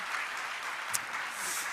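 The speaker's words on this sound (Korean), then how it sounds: "박수. 네, 박수." A church congregation applauds briefly at a prayer meeting, a moderate, fairly faint patter of clapping hands with one small sharp accent partway through.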